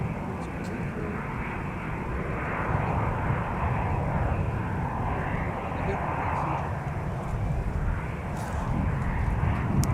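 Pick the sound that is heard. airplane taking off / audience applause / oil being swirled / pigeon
airplane taking off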